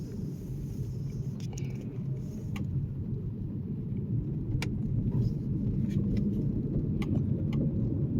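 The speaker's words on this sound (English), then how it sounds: "So we're just gonna ride around the neighborhood." A car cruising slowly around a residential neighborhood at roughly 20 mph, heard from inside as a continuous low road and engine rumble with a few faint clicks, no talking.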